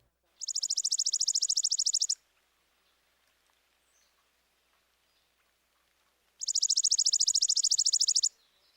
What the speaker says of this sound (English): The chippy's song sounds somewhat mechanical.